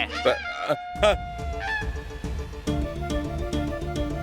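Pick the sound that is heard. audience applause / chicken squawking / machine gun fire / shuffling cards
chicken squawking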